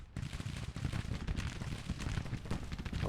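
Massed musket volleys from Confederate infantry in a Total War battle, heard as a dense, rumbling crackle of many shots blending into a steady low roar, moderately loud and unbroken for a few seconds, with no voices.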